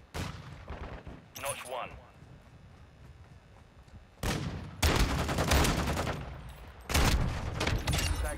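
Shotgun blasts in a video game firefight, a sudden burst early on, then loud, dense roaring bursts of fire in the second half, close and heavy.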